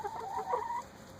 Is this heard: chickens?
yes